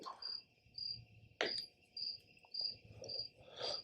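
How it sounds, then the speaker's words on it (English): Crickets chirp outdoors in a steady, repeating rhythm, close and clear, with one sharp knock partway through and no voices. "I'm out here with the crickets."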